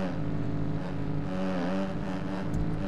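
A dirt bike engine in the MX Bikes game on Android drones with a steady, buzzing exhaust note, pitch wavering slightly as the throttle shifts, close and continuous with no voice over it.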